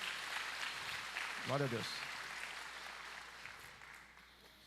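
A church congregation applauds in a soft, diffuse, distant wash of clapping that gradually fades. A single voice briefly calls out over it.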